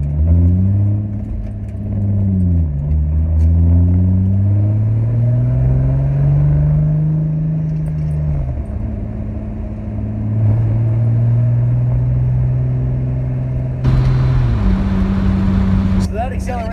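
A 2001 Ford Mustang V6 with a Borla exhaust and X-pipe accelerates, its engine note sweeping up and down through several gears in a steady, loud drone heard from the cabin with the windows down.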